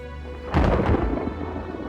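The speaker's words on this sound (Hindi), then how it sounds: "बाहर बारिश और बादल गरजने की आवाज आ रही थी।" A sudden loud thunderclap rumbles over steady rainfall, then fades back into the continuous hiss of rain.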